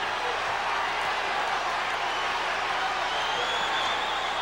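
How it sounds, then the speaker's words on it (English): Basketball crowd at the Forum roars at a fevered pitch during a 1982 Lakers–Celtics game. A dense, loud, continuous wash of cheering fills the whole stretch. "And the Forum crowd at a fevered pitch here."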